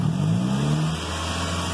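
A Nissan Sentra engine with an acceleration fault revs briefly, the tone rising for about a second, then settles back to a steady idle hum.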